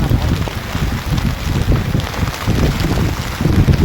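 Rain falls near Khorninko dam and waterfall, a dense, steady hiss mixed with gusty wind buffeting the microphone, loud and close throughout.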